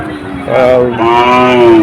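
A cow at the Betaga cattle market in Fakirhat, Bagerhat, lets out one loud, drawn-out moo close by, rising and then holding, over a low background murmur.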